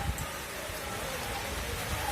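Heavy rain falling over a wheat-harvest field, a steady, moderately faint hiss of downpour throughout.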